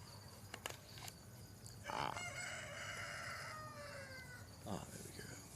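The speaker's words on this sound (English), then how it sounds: "The rooster gave the shout out." A rooster crows once in a long drawn-out call at moderate distance outdoors, with soft clucks and rustling around it.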